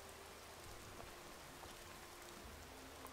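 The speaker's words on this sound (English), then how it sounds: "And it's raining." Rain falls in the video game Gothic 2, a faint, steady hiss of downpour with scattered soft drop ticks, heard quietly with no voices.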